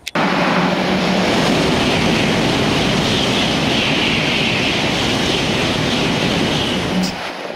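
A Shinkansen N700 series bullet train rushes past at high speed, a loud, dense, continuous roar of wind and rail noise sustained for several seconds before cutting off abruptly.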